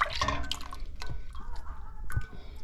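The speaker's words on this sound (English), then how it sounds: "So, you're just gonna pour all the coconut milk in." Coconut milk poured into a pot of Tom Kha seafood soup, a liquid splashing and dripping sound with a few short bursts over about three seconds, fairly close, with some faint background speech.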